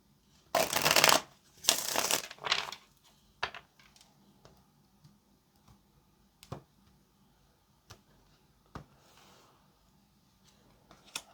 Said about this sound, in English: let's get one last shuffle.